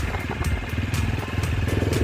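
A motorcycle idles with a steady low, chugging rumble, up close and continuous, as the bike is parked at a cold high-altitude homestay.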